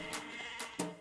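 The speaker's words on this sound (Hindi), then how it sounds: "भेड़ बकरियां भी उतरेंगी।" Sheep and goats bleat in two or three short, loud calls, close by, with a burst near the start, another around the middle and a strong final bleat.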